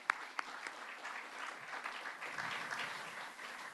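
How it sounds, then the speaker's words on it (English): Applause from an audience at an Iowa Parks Foundation event, a steady patter of clapping that holds at an even level for a few seconds, with a couple of sharper claps near the start. "And that deserves a round of applause."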